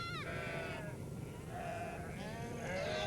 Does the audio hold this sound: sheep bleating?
yes